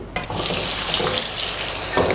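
Cubed potatoes frying in hot oil for a Bengali pilaf, heard as a steady, close, loud sizzle that starts abruptly and holds throughout, with no talk over it.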